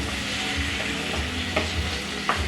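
Beef liver simmering with tomato sauce in a pan gives a steady low bubbling sizzle, with a few soft utensil taps standing out now and then, close and fairly quiet, with no talking.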